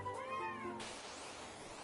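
A cat meows once, a short rising-falling cry up close, followed by a hissy, noisy background with no voices.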